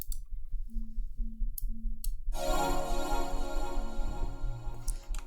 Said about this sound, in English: It's a pad and it sounds like this.